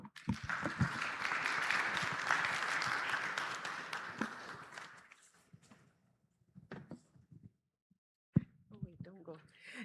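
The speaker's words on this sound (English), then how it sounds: "Let's give him another round of applause" A crowd applauds steadily for about five seconds, the clapping fading out into quiet room noise with a few scattered knocks and a brief thump.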